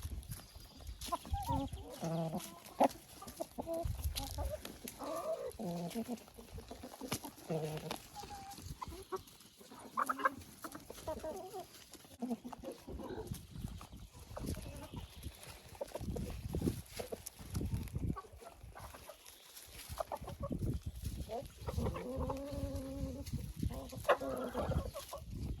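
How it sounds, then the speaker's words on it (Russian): Hens cluck and murmur in farm enclosures while being brought fresh grass, with a steady busy chorus of nearby and farther birds and occasional louder calls. "Траву приношу всем курочкам во все вольеры."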